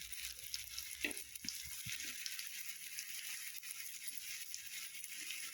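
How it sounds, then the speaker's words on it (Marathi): Sliced alu vadi, colocasia leaf rolls, shallow frying in a little oil on a tawa, giving a steady close sizzle with a few soft clicks and stirring rattles throughout. "मी इथे शालो फ्राय करते आहे तव्यावरती थोडंसं तेल टाकून त्या कापलेल्या आळूच्या वड्या तव्यावर टाकणार आहे"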